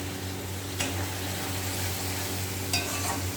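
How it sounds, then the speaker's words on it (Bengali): Spice masala with cumin powder fries in a pan while being stirred, a steady close sizzle under a low stove hum, broken by two brief scraping clinks of the spoon. "এবার নাড়াচাড়া দেবো"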